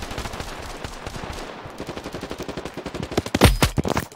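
Rapid automatic gunfire from a weapon in the mobile shooter game Standoff 2, a dense rattling burst of shots that grows louder and sharper toward the end, with no voices over it.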